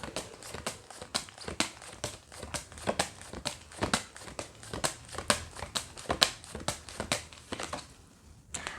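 Tarot cards are drawn from a deck and handled, making a steady run of quick, crisp card snaps and shuffling flicks, close up and rhythmic, with no voices.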